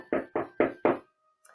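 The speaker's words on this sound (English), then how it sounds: "She knocks harder this time." Four firm, evenly spaced knocks on a wooden door in a video game, close and distinct, followed by silence.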